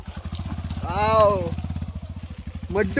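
A motorbike engine idles with a rapid, steady putter throughout, close by on a muddy forest trail, while a voice speaks briefly over it.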